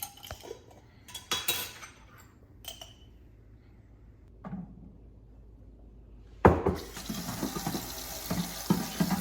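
Lukewarm tap water runs into a sink to soak berries with baking soda, preceded by scattered clinks and light handling noises, then a steady close pouring rush through the final few seconds.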